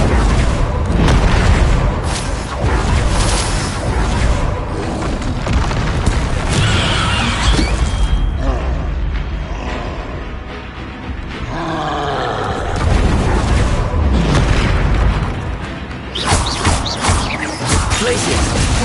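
Spell blasts in Hogwarts Legacy gameplay, including Bombarda and Confringo, land as repeated heavy booms and crashing roars, loud and dense, with shouted incantations over them.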